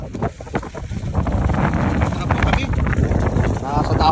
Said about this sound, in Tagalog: Mahangin, malakas ang hangin oh.